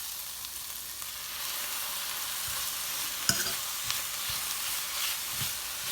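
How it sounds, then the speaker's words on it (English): Beetroot leaves sizzling with softened tomatoes in a pan for palak paneer gravy, a steady close frying hiss broken by occasional spoon scrapes and taps while stirring, with no voices. "it's time to add our next ingredient, that is the beetroot leaves."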